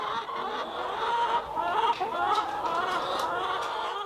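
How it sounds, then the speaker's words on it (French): Marans and Isa Brown hens cluck steadily on a farm in Martinique, a dense, continuous flock chatter heard close by. "nous avons en termes de type de poule, nous avons des marans et de l'isaboire"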